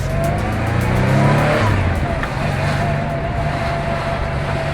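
An air-cooled Porsche 911 engine rumbles steadily close by, its tone rising briefly and then settling into a sustained drone.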